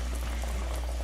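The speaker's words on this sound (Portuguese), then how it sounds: "Coloca a água quente no molho." Meatball sauce bubbles in a pot as hot water is added, giving a close, steady simmering gurgle with a low hum beneath and no talk.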